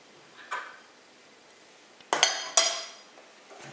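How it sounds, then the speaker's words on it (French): A spoon clinks against a dish while honey is stirred into a homemade soap mixture, giving a few separate sharp clinks and scrapes, close and fairly quiet, with near silence between them. "On va bien tourner. Jusqu'à ce que tout se mélange très bien."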